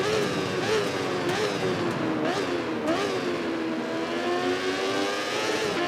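A racing motorcycle engine in the VR46 MotoGP game drops to first gear and revs hard out of a corner, a loud, steady high-pitched whine that rises and falls with shifts, alone without talk.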